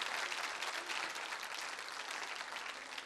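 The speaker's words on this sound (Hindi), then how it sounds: "तालियां इनके लिए तो जबरदस्त बजनी चाहिए" Steady, even applause from a studio audience at a Holi quiz show cheering contestants, a dense wash of many hands clapping together with no talk over it.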